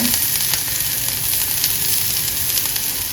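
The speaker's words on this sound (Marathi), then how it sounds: "कढीपत्ता आणि मिरची थोडीशी परतली मग आपण याच्यामध्ये लसूण घालूया" Curry leaves, chilli and garlic fry in hot oil for Agri-style turmeric dal, giving a steady, close sizzle throughout with no talking.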